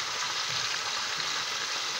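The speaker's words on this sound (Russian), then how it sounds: "Жарим ее, жарим, жарим." Food frying in a pan for a simple Serbian home-cooked dish, a steady close sizzle and crackle with no talking.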